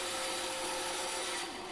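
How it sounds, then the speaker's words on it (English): A bandsaw cuts off a wooden dowel in a continuous rasping, whining pass that is loud and close, easing slightly near the end. "cut it off on the bandsaw"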